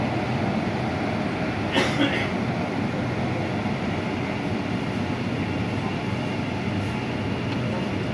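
A Kolkata metro train pulls into Mahakaran station in the tunnel beneath the Ganges, a steady loud rumble throughout with a brief sharp squeal or clank near the two-second mark.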